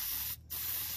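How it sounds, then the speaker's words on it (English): Aerosol sheen sprayed on as part of a gladius machete and sheath project, a steady close hiss that cuts out for a brief moment before resuming without any talk. "you could just smear it on, or you can just spray it on like this"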